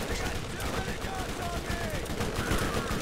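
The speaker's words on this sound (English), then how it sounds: "Please stop shooting me." In Borderlands, enemy gunfire makes a dense, continuous rattle of rapid shots mixed with game noise, steady and fairly loud throughout, with a voice faintly present.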